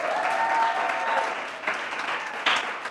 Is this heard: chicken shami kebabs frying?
no